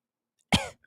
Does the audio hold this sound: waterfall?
no